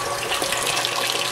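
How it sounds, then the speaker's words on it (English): Water pumped from a hot liquor tank into a mash tun on a home brewing system, heard as a steady close rush and splash of flowing water with no break. "Water is coming from the HLT"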